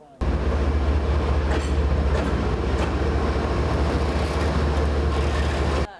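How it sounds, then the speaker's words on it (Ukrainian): An evacuation train from front-line cities arriving at the station in Chernivtsi rolls past with a steady, loud rumble and low clatter of wagons that holds for several seconds, then cuts off abruptly. "До Чернівців прибув евакуаційний потяг із фронтових міст."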